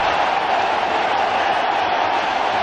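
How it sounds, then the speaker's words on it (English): Dense, steady roar of a cricket stadium crowd cheering after a wicket falls, loud and sustained without a break. "Crowd are going nuts."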